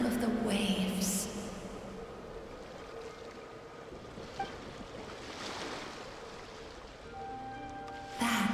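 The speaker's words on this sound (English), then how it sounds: "Go to where you can hear the sound of the waves" Ocean waves wash in a Genshin Impact game scene, a steady broad surf rush with wind-like hiss, swelling gently and holding moderately loud throughout, with brief tonal game effects near the start and end.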